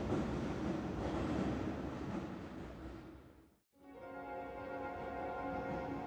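Train riding along in a video game, a steady dense rumble with rhythmic rail noise that dips briefly to near silence mid-clip before resuming with a tonal hum.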